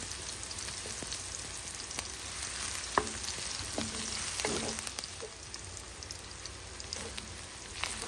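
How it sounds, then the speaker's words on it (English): Chopped onions and grated garlic fry in hot cooking oil in a pan, making a steady, moderate sizzle broken by occasional stirring scrapes and light clicks. No one speaks. "Add chopped onions and grated garlic and cook for 1 to 2 minutes."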